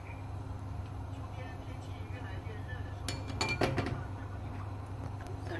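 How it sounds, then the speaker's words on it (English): A spoon stirs tofu and seaweed soup with carrots in a pot, giving a few light clinks against the metal over a steady low background hum. "Keep stirring."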